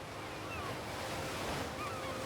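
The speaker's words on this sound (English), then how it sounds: "many swim in the clear water as gentle waves roll steadily onto the shore" Gentle waves rolling steadily onto a sandy Spanish beach with turquoise water, a soft continuous wash of surf mixed with wind buffeting the microphone, steady and moderately distant with no voices.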